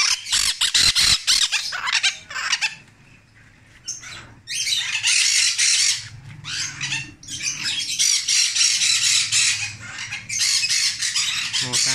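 A brown-throated conure kept indoors with young cockatiels screeches in loud, harsh bursts, close by, with a brief lull and some wing flapping before the squawking resumes.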